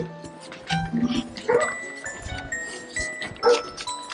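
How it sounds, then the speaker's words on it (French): A dog barks at a residential doorstep while leaflets are delivered to the mailbox, giving two sharp, fairly close barks among scattered rustling and light jingling. "Oui, le chien."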